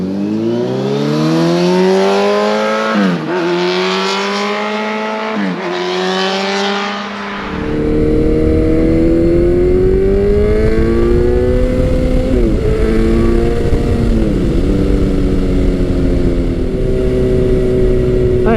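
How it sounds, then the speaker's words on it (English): A Kawasaki Z900 motorcycle ridden on the road, its engine loud and close, climbing through gears with rising whine and shift dips, then settling into steadier wind-blown cruising. "I am currently riding Kawasaki's Z900."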